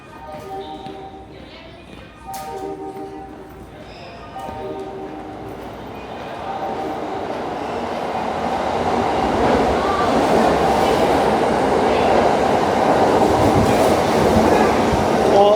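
A subway train on the Osaka subway pulls away, its rumble and rail noise building steadily into a loud, sustained roar, with brief voices near the start.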